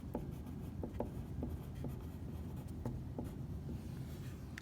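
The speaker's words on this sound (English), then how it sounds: "so I might write" Faint pen strokes on paper, a series of soft scratchy taps at an irregular pace, quiet and close over a low background hum, with no voice.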